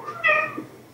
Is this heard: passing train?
no